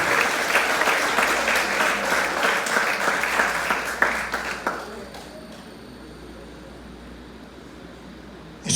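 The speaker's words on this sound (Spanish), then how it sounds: "Si le puede dar a Él un aplauso." A church congregation breaks into sustained applause during a sermon on the exaltation of Christ, a dense roomful of clapping that holds steady for about four seconds before thinning out and fading into quiet room tone.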